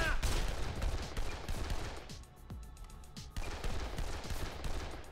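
Rifle fire in the zombie video game Dead Island, a rapid series of near, loud shots in dense bursts with a brief lull in the middle before the firing resumes.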